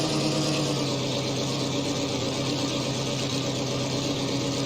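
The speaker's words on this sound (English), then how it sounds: "I'm going to keep the engine going" A tank engine in Tank Mechanic Simulator idles with a constant, dense, even drone that holds unchanged throughout.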